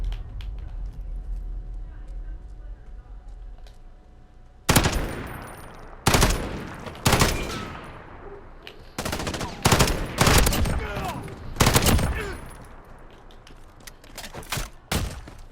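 An FAL rifle in the video game Modern Warfare fires repeated loud, sharp bursts of automatic gunfire, each burst a tight cluster of shots separated by short pauses, close and dominant, after a quieter lead-in with someone talking.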